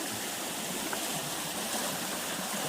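A stream swollen by rain flows steadily at the Delaware Water Gap, making a dense, continuous rush of water that stays even and fairly close throughout, with no voices.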